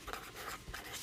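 Marker strokes squeak and scratch across a board during a Class 8 math lesson, several short bursts in an uneven rhythm, close and fairly soft, with no voice.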